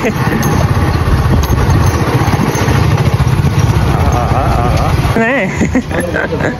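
A motorcycle engine runs loud and close with a steady, throbbing drone, and a voice cuts in near the end as the engine noise drops.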